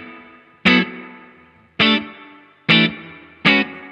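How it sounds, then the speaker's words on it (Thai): Distorted electric guitar through a Laney Lionheart Foundry LF60-112 amp with built-in plate-style reverb: four loud strummed chords at even intervals, each decaying with a reverb tail into near silence, with no talking. "ลองฟังรีเวิร์บอันนี้บิวอินมาจากนั้นนะครับลองฟังว่ารีเวิร์บเขาเป็นทรงแบบไหนนะฮะ"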